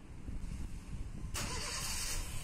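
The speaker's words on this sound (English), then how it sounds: "start the car" A car with a 1.3 liter engine cranks and fires up, the broadband roar jumping abruptly louder midway as it catches and keeps running steadily and close.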